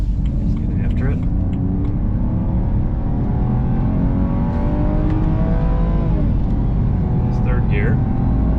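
Cabin view of a 2011 BMW 328i xDrive with an Active Autowerke aftermarket muffler accelerating, a steady droning engine hum rising in pitch, loud and continuous, with a voice talking over it.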